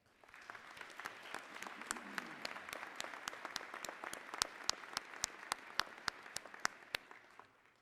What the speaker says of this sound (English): Can we please give them applause?